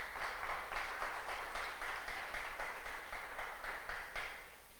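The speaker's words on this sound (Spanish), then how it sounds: "Dele palmas al Señor" A church congregation claps together in a steady, even rhythm, the beats sounding soft and somewhat distant as they fill the room without any voices over them.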